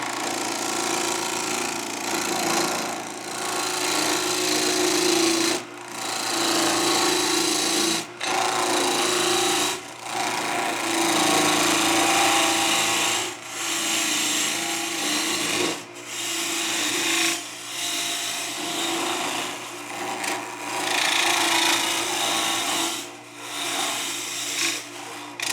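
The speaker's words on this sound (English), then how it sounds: "I'm going to try using my bowl gouge because it's the sharpest tool I have right now." Wood turning on a lathe as a bowl gouge cuts a chess piece: a loud, continuous rasping, scraping hiss close by, broken into passes by short pauses every few seconds, no speech.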